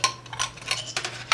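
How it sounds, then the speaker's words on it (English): A car freshie scent mixture being stirred, a quick run of light clicking and scraping taps against the container, close and fairly loud, with no voices. "I'm just going to stir these up because it's been a while since I mixed this one"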